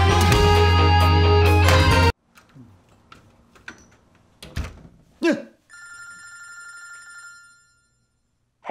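A telephone bell rings loudly for about two seconds in a comedic reel, then stops, followed by scattered clicks and thumps and a steady electronic tone.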